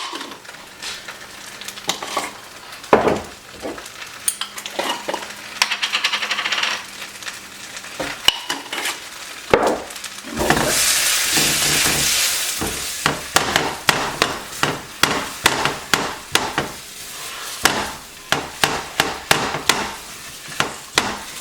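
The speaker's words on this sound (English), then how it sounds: "I'm just gonna scramble it in the pan because that's the easiest." Eggs seasoned with salt and pepper are stirred and scraped in a non-stick pan, giving a steady soft sizzle broken by repeated sharp clicks and taps of a utensil against the pan, with a louder hissing burst midway.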